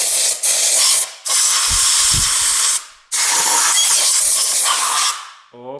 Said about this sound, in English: when I have this compressed air, I can clean all of these holes